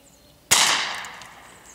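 A single sharp crack of a .22 LR CCI shotshell fired at a small block of ballistic gel from about five feet away, loud and abrupt, with a short fading ring after it and no voices.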